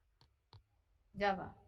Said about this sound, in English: click on java.com, the first site, java.com, then click download Java